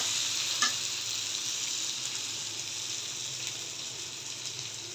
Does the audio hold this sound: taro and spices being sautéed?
yes